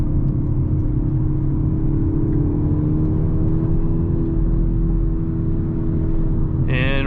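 A 2022 Hyundai Elantra N on a mountain road braking and dropping a gear, its engine a loud, steady drone from inside the cabin that shifts pitch near the end as revs change.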